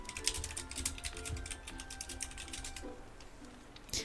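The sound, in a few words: typing on a computer keyboard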